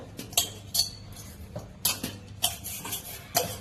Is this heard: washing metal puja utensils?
yes